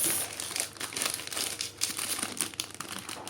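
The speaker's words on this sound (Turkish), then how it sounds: "Crispy, crispy çubuk krakerin baharatlısı. Evet açıyoruz." A crinkly plastic package of spicy stick crackers is torn and opened close up, a dense burst of rustling and crackling crinkles that lasts a few seconds with no voices.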